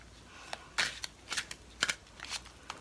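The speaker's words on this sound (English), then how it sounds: "I do not like to shuffle like I do these because I may not be able to find these cards again." A deck of tarot cards is shuffled up close in several quick riffling bursts that crackle and flutter, with no talk.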